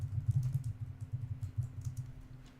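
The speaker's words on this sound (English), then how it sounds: "It was probably me typing." Someone types on a computer keyboard while working in 3D Studio Max. Faint, irregular clicks of keys sit over a steady low electrical hum, with no voices.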